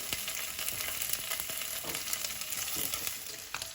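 Triangle-cut paneer pieces sizzle in a pan as they fry toward golden, making a steady, crackling hiss with small pops, fairly quiet and close.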